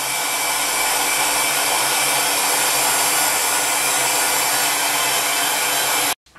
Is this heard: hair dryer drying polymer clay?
yes